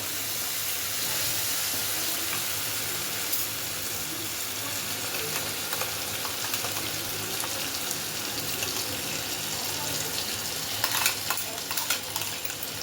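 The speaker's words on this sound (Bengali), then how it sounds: "এবার এর মধ্যে আমি টমেটো পিউরিটা দিয়ে দেবো" Chicken masala frying in a pan as tomato puree goes in and gets stirred, a steady dense sizzle with scraping spoon strokes throughout, close and continuous with no voices.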